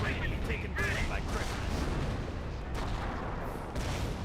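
Artillery barrage from the World War II strategy game Company of Heroes, with dense rolling booms and blasts mixed with gunfire, loud and continuous throughout and without any pause.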